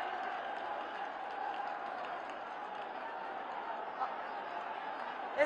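An outdoor political rally crowd for a prime minister's visit in Rudrapur applauds, a faint, distant, even wash of clapping throughout with a small bump near the end.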